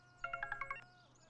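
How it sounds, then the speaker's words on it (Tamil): A phone rings in a short burst of six bright, evenly spaced electronic tones lasting under a second, fairly clear against a quiet background. "Sir, phone."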